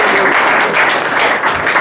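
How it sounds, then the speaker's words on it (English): Audience applause fills a room at a talk on home burglary: a dense, steady wash of many hands clapping, loud and close, holding at an even level for the whole two seconds. "So, if you give Wesley a clap"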